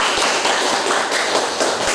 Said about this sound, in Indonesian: mari kita berikan tepuk tangan untuk kelompok dua